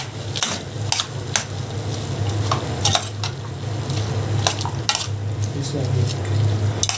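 Beef and onions fry in a pan with a steady, close sizzle, broken by regular scraping clatters as a utensil stirs them.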